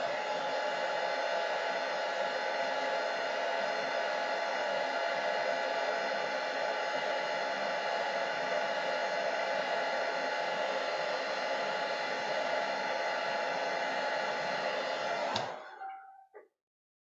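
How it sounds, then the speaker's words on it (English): A hair dryer blows a steady, loud rushing whoosh for about fifteen seconds while drying watercolour paint, then switches off and winds down abruptly into silence. "this is why I wanted you to have your hair dryers"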